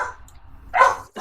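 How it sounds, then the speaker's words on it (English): A pet dog at home barks in two sharp, loud bursts close by, with a quiet pause between them and no talking. "my dog's being crazy today"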